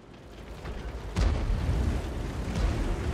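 In World of Tanks, a high-explosive shell slams into a tank on the Ghost Town map with a sudden deep, muffled boom over a rumbling background, then a smaller thud a moment later.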